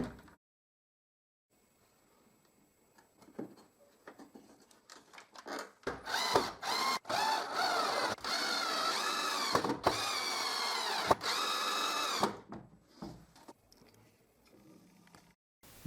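A power drill drives screws into a wooden side apron of a cheap Moxon vice, several loud whirring bursts in quick succession with short pauses, then trailing off into quieter handling sounds.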